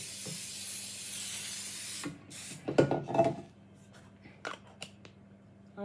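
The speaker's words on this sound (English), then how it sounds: "Some of this Baker Joy." A steady hiss of an aerosol can of Baker's Joy baking spray spraying for about two seconds, fairly close, followed by quiet clicks and light handling noises.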